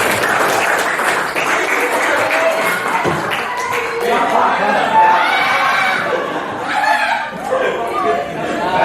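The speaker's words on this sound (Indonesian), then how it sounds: "Tepuk tangan dong untuk Bapak Imron." Applause from a school class for Bapak Imron, the teacher, steady dense clapping throughout with chatter and chuckles mixed in and voices talking under it.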